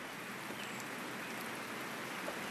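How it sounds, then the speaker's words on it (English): Steady rain patters softly and continuously, a faint even hiss of drops with no voices or other sounds. "It is raining today, so Peppa and George cannot play outside."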